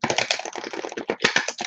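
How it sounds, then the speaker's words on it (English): Large, oversized oracle cards being shuffled by hand: a rapid, close run of papery clicks and slaps in quick uneven bursts, heard alone. "These are some massively big cards, so the shuffling can be a little bit challenging."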